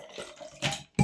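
Liquid poured into a blender jug, a brief soft splashing trickle lasting about a second, quiet and close.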